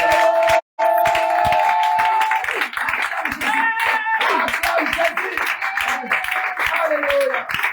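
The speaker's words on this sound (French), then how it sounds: "Acclame fortement." A church congregation at a revival service in Koumassi cheers, claps and shouts loudly together, a dense continuous crowd roar with voices calling out throughout.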